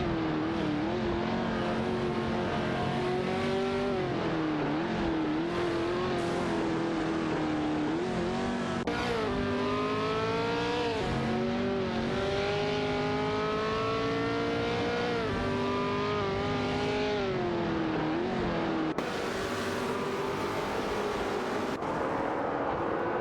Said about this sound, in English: The dynamics of the race are tightening as the cars jostle for position.